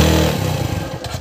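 A motorcycle engine runs up close on a rough mountain road, a loud rumbling rev that drops into uneven pulsing chugs with some clattering.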